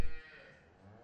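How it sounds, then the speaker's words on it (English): Dairy cows low in a collecting pen, one loud moo swelling up and then trailing off into a long, fading drone, with no voices over it. "the cows come in from the fields."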